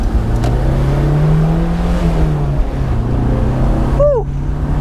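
Honda S2000 engine droning at steady high revs, a loud sustained buzzing hum from close by with a brief squeal near the end.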